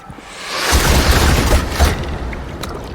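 Volley of arrows loosed by a first wave of archers in AC Valhalla, a swelling whoosh and rumbling burst with heavy low booms, loud and close, fading into lingering noise.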